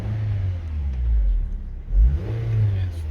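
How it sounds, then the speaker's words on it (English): A 2008-2012 eighth-generation Honda car engine idles low, then rises in a brief, moderate rev when given a little gas and settles back, heard close and alone. "and when I give it a little gas"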